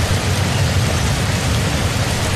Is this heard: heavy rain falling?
yes